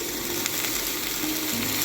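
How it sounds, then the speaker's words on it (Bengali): Salted potatoes sizzling as they fry in hot oil, a steady close-up crackle throughout with no voices. "একটু আলু ভেজে নেব পান্তা ভাত দিয়ে খাওয়ার জন্য।"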